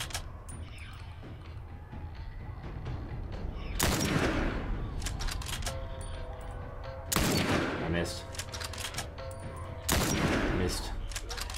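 Gunshots ring out in The Last of Us, three loud, sharp blasts spaced a few seconds apart, each with a lingering tail, over quieter background game sounds.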